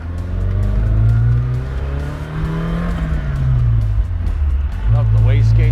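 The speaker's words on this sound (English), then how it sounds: "Love the wastegate sound." A 1986 Ford RS200 rally car, rare S-spec, drives with a loud, steady engine drone that rises and falls with throttle, plus wastegate chatter and whooshes near the end; its occupants talk faintly underneath.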